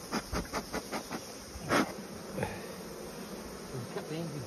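Honeybees swarm around an open beehive during a honey harvest, a close, steady buzzing drone with individual bees zipping past, while people talk intermittently nearby.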